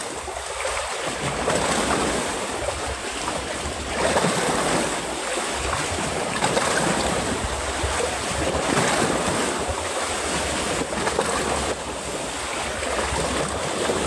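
Sea waves and gusting wind at a fishing spot on the water form a continuous broadband roar that swells and eases in slow surges, with no voices present.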